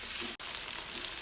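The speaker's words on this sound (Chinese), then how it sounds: "再加入胡萝卜， 炒至变色后，放入切好的粉条，给它翻炒均匀。" Carrot and sweet potato starch glass noodles are stir-fried in a hot wok, producing a close, continuous sizzle with one brief break and no voices.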